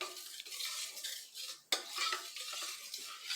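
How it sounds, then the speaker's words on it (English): A red-tinted milk mixture for homemade yogurt, made from vitamin D milk, is stirred vigorously with a utensil in a bowl, giving brisk scraping swishes and one sharp clink against the side, with no talk. "I'm going to add 2 more squirts because it's not red enough, and I mix generously."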